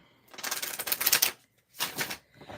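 Tarot cards being shuffled, two bursts of crisp riffling and fluttering card noise, the first longer and louder, the second shorter after a brief pause, close and alone without talk.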